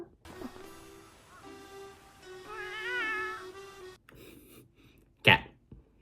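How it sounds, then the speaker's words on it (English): A cat meows several times in an anime episode, drawn-out wavering cries followed by a sharp, sneeze-like burst near the end, with quiet background sounds between calls. "Cat."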